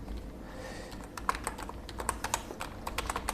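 An address is typed on a computer keyboard with quick, light, uneven keystrokes. The clicks are close and fairly soft over a faint room hum, with no talking.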